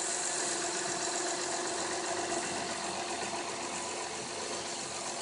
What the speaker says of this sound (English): This is the Honda V6 with IV Tech